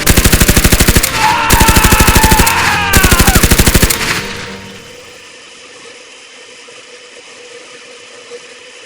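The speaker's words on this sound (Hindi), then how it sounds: "बाबा ने मशीन गन शुरू कर दी" Loud, rapid bursts of cartoon machine-gun fire ring out in three long volleys, then cut off and leave a quiet, rumbling tail.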